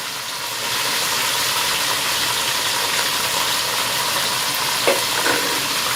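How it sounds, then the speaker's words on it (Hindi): Crushed green chillies and tomatoes for achari aloo pulao fry in a hot pan with a loud, steady sizzle that runs throughout, briefly broken by a faint stir or clink near the end. "इसको हम 3 से 4 मिनट के लिए फ्राई करेंगे"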